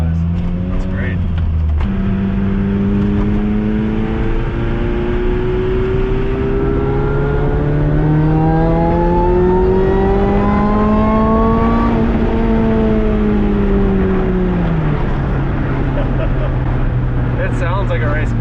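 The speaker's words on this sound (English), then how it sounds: "It sounds like a race car." A supercharged Lotus Exige's engine revs while driving, its steady drone rising slowly in pitch before dropping back, loud and close from inside the car, with a brief faint voice near the start.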